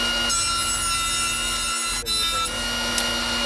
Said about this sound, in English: Once everything's dry, again, running it through the planer